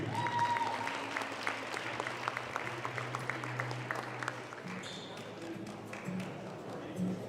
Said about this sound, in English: Please give another round of applause for your senior boys and girls basketball players